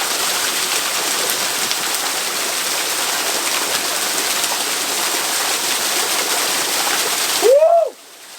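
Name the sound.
waterfall at Niagara Falls Trailhead, Oregon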